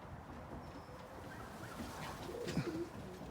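Racing pigeons coo softly around a damp pigeon loft on New Year's Day, a few low cooing calls near the end over steady outdoor background noise.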